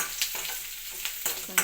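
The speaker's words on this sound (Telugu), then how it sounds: "పోపు పెట్టాను, పోపు గింజలు వేసాను, ఉల్లిపాయలు వేసాను" Onions fry in a hot tempering of seeds for ridge gourd curry, a steady soft sizzle broken by a few sharp scrapes of a spatula against the pan.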